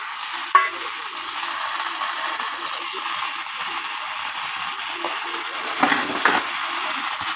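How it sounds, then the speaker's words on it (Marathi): Pigeon pea grains roasting in a pan as they are stirred, a continuous soft sizzle with scraping and a couple of sharp clinks, close and steady. "त्याच्यात टाकतो मी हे आपले दाणे"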